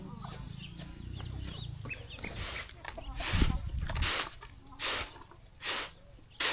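Chickens cluck in a rural Lao village, sharp bursts recurring under a murmur of nearby voices and ambient village noise.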